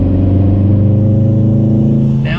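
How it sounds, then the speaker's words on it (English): A 2019 Subaru STI boxer engine with a Remark axle-back exhaust idles and revs, a loud, close, steady low rumble with a lumpy, throbbing burble that holds throughout. "You hear that boxer rumble."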